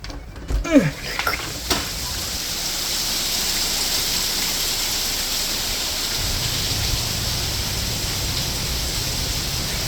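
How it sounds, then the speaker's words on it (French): Rain falls outside an opened door as a steady, even hiss that fills the background for most of the stretch, after a few brief knocks and handling sounds at the start. "ouvre la porte et dis-moi qu'il pleut pas en ce moment"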